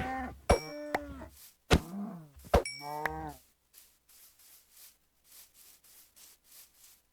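Cows in the Minecraft video game moo in a few short, loud harmonic calls over the first few seconds, followed by quieter soft rustling and footstep-like sounds.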